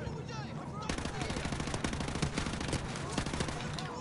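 Rapid automatic gunfire from the Modern Warfare 2 campaign, a loud sustained burst of closely spaced shots with a quick whooshing lead-in, continuing almost unbroken to the end.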